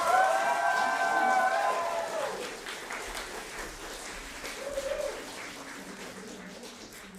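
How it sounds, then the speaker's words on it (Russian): A theatre festival audience applauds, and the clapping is strongest at first before it thins and fades. Faint voices and other crowd noise sit underneath. "Поаплодируйте."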